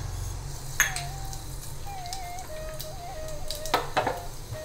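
Mustard seeds sizzle in hot oil for tempering a brinjal and field bean kuzhambu, a steady crackling hiss broken by a few metallic clinks of a utensil and a faint wavering tone.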